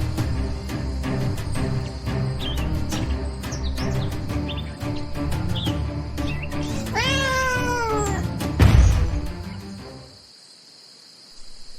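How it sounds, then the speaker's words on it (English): Loud, close yowling of a fictional saber-toothed swamp cat: a drawn-out wavering caterwaul with a sharp shriek at the end, set over a busy, noisy background with chirping, and ending abruptly in near-silence. "That was a saber-toothed swamp cat."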